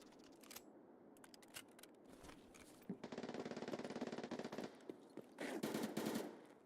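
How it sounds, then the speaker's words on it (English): Bursts of rapid gunfire in the video game Escape from Tarkov, some scattered single shots and several longer automatic volleys, moderately distant and without speech. "knowing where the gunshots are"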